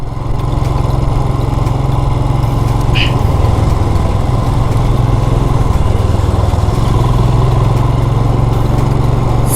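A motorcycle rides through the Atal Tunnel, its engine a loud, steady buzzing drone with strong low harmonics that hums on unbroken, the enclosed space adding a dense, boomy wash.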